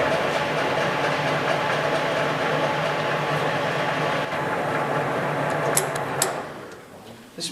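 A LeBlond Dual Drive 15 by 54 inch engine lathe runs with its threading half nut engaged, giving a steady mechanical hum and gear whir that softens near the end, with a few faint clicks.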